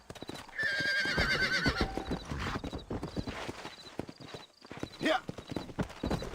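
A horse in the video game Red Dead Redemption gallops with a quick, rhythmic clip-clop of hooves and lets out a loud neigh, while someone speaks briefly over it.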